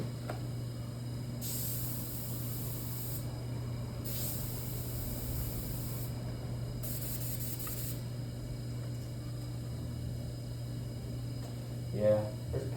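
An airbrush spraying red paint gives three separate hissing bursts, each lasting a second or two, over a steady low background hum, followed by a brief clatter near the end.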